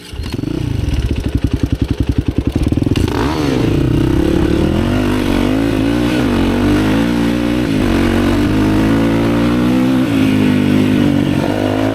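Enduro dirt bike engine on a trail ride, recorded close from a helmet mount: choppy revving bursts at first, then a loud sustained engine drone with shifting pitch as the rider accelerates and eases off.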